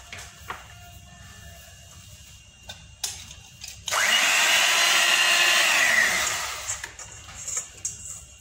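An electric mixer whips cold cream for a homemade dessert glass, starting with faint clatter, then a loud, steady motor whir for about two seconds before dropping back to softer bumps and noises.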